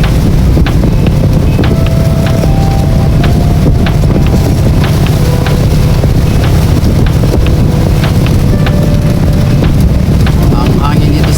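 Strong wind over the Pacific Ocean buffets the microphone in a constant loud roar, with a low engine rumble and faint voices beneath it.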